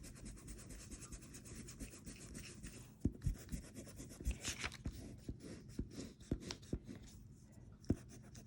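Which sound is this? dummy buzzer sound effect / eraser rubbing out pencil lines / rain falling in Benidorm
eraser rubbing out pencil lines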